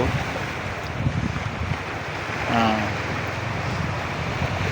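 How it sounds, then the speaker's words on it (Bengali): Sea waves roar continuously at Kerteh, Terengganu, Malaysia, with wind rumbling over the microphone, a brief tonal whine rising midway. "বড় বড় ঢেউ আসছে সমুদ্রের গর্জন"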